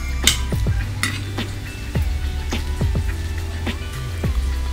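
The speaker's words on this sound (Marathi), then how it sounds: "आता मी इथे छोले शिजून घेतलेले, तर थोडेसे आपण मॅश करून घेऊया" Cooked chickpeas being mashed into sizzling masala in a pan for chole, with repeated soft squelching presses and scraping over a steady low frying hiss, close and moderately loud.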